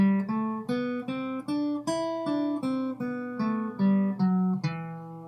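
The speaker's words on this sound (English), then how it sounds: "the actual scale is called a natural minor scale, and so it would sound like this." An E natural minor scale is played briskly on a pitched instrument, twelve evenly spaced clear notes stepping through the scale one after another, each with a sharp attack and short ringing decay, alone without talk.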